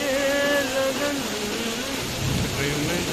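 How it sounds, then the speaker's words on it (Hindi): Heavy monsoon rain pours down in a steady, hissing patter, close and continuous, while a voice drifts over it in the first half. "घनघोर बारिश हो गई है"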